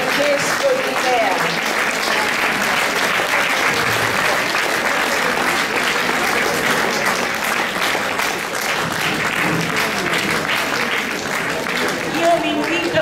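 Sustained, dense applause from a concert audience for an orchestral ensemble's musicians, steady and loud for the whole stretch with no talk over it.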